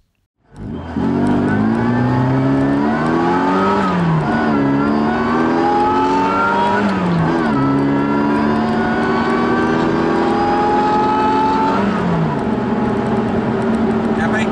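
A 160 brake horsepower supercharged Mini engine revs loudly and close, climbing and falling in pitch through several sustained pulls with a steady supercharger whine over the exhaust.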